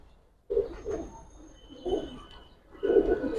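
A pair of large standing-pair pigeons coo in three distinct throaty bursts close to the listener, separated by brief quieter pauses, with no talking.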